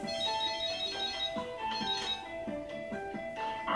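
A cell phone ringing in the Death Note anime: a steady, repeating electronic ringtone with bright tonal beeps, fairly quiet, playing alone without talk.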